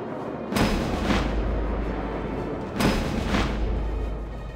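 Two heavy artillery blasts in a World War II real-time strategy game, each a loud booming report with a rumbling decay, a couple of seconds apart over a constant low battlefield drone.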